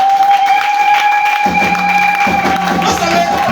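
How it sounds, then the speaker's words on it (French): An audience applauds in a dense, continuous wash of clapping, with a sustained tone and voices running over the top throughout. "Acclamez encore plus."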